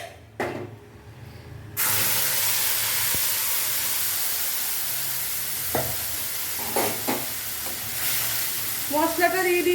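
A bay leaf and then spice paste hit hot oil for a taro root and prawn curry, with a short spattering burst followed by a loud, steady sizzle and occasional stirring clicks.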